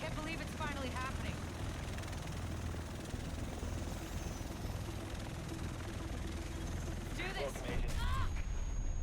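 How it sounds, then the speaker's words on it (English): A helicopter arrives in The Division video game, a dense rotor roar that goes on throughout, with sharp bursts of game effects and voices talking over it. "The rest of us should be in this chopper."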